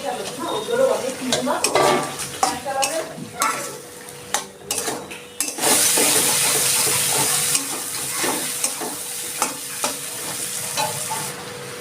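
Potatoes hit a pan of cooked-down spiced masala with a sudden loud rush of sizzling, following scraping and stirring clatter; the close, dense frying hiss continues steadily, punctuated by sharp spatula knocks against the pan.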